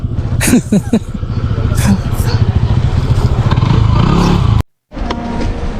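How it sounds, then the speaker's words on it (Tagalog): A motorcycle engine runs nearby with a steady throbbing idle and brief revs, plus a few clattering knocks near the start, before the sound cuts out abruptly for a moment and then returns. "tingnan nyo yung motor"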